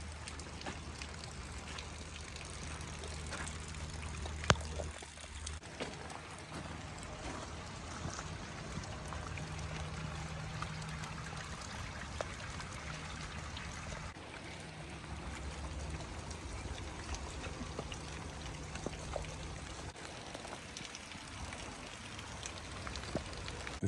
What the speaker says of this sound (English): take a look at this footage that I took during the rainstorm